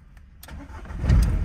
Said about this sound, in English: Oh, yeah, that diesel rumbling.